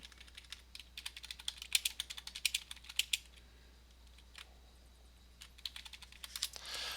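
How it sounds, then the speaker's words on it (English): Computer keyboard typing during an online tabletop game session over Discord: bursts of quick, light key clicks come close to the mic, pausing and resuming in irregular runs, with no talk over them. "He's typing."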